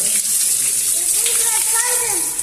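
Shower water runs steadily in a Turkish bathhouse (hamam), a loud hissing spray filling the whole stretch while a voice rises and falls over it.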